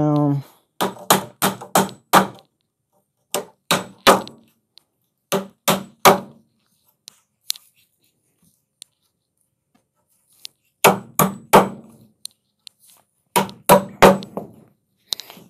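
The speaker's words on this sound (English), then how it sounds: "I'm just going to hammer that down" Sharp hammer blows drive carpet tack strips onto a wooden tufting frame in quick bursts of three or four, pausing between sets, loud and close with a ringing metallic clang.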